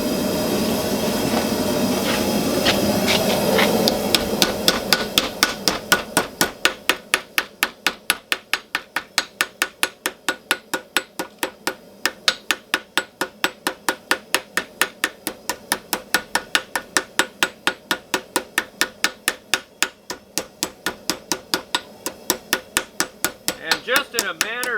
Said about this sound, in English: use a ball peen hammer and set the piece in there and pound out the spoon shape